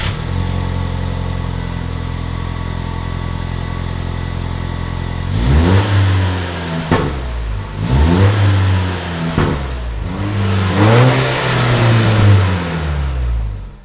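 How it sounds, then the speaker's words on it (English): The stock exhaust on a 4th gen Toyota Tacoma truck idles with a low, steady rumble, then blips through three or four loud, deep revs that swell and fall back to idle. "let's start off by showing you what the exhaust sounded like before installing the AWE catback exhaust."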